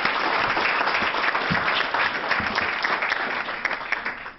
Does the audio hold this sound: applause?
yes